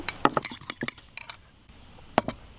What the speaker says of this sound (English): Kind of whisk in some olive oil here